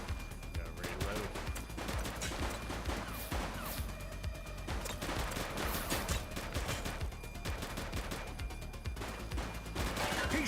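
Dense, rapid gunfire from a police shootout in the video game The Precinct: loud overlapping bursts and volleys run continuously, with shouted voices mixed in.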